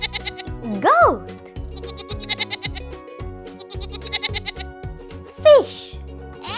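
A goat bleats twice, a short wavering call early and another near the end, over a bouncy children's song beat with speech in between.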